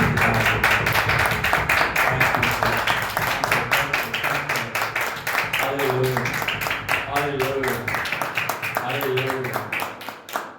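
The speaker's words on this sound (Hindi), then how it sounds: "ताली बजा के प्रभु के नाम" Congregation clapping along during a church anniversary worship service at Eternal Life Church in Bathinda, a steady dense run of hand claps throughout, mixed with music and voices singing or speaking over it.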